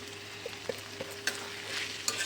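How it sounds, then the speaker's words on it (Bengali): Boiled figs, precooked with salt and turmeric, are tipped into potatoes frying in spice paste and stirred, giving a soft steady sizzle with a few light scrapes and clicks of the spoon against the pan, close and without voices. "আগে থেকে লবণ হলুদ দিয়ে সিদ্ধ করে রাখা ডুমুরগুলো আমি এখন এর ভেতরে দিয়ে দেব"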